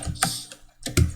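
Typing watermark text on a computer keyboard: a couple of short bursts of keystrokes, near and fairly quiet, with no voices.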